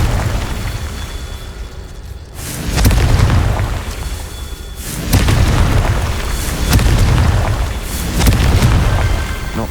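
Spell explosions in the game Hogwarts Legacy hit as heavy booming blasts with rumbling low-end tails, several loud swells in close succession over continuous combat noise.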